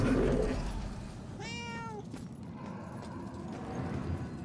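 A cat in the video game Murdered: Soul Suspect lets out a single clear, rising-then-falling meow, close and distinct over a low background rumble.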